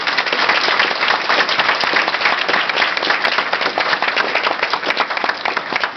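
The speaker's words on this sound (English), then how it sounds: "So please, a round of applause for the parents." A crowd of wedding guests applauds the parents at a reception after speeches, sustained dense clapping that stays steady and loud from start to finish, with no one speaking over it.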